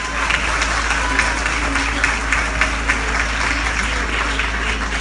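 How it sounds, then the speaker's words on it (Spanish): Steady applause and crowd noise from an audience at a Teleton solidarity event in Tamaulipas, even and continuous throughout with a low background hum. "Vamos a darle un aplauso al director, a Sergio."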